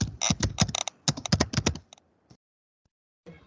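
Rapid bursts of keystrokes on a computer keyboard while entering Linux user details, close and clear, then a few scattered taps trailing into silence.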